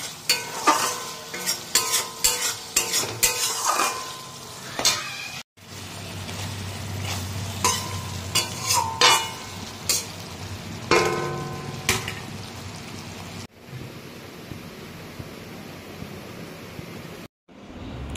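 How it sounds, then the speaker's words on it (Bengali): Spice paste lightly frying in oil in a pan for pabda fish curry, with a low sizzle under repeated close stirring clatters and scrapes, broken by brief pauses. "পাবদা মাছের ঝালটা রান্না করবো তো, তাই জন্য মশলাটা হালকা কষিয়ে নিচ্ছি"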